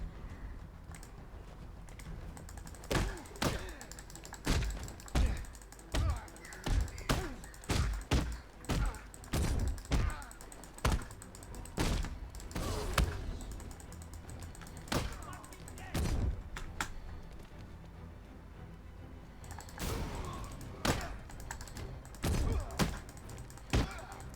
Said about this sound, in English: probably heard a lot of clicking there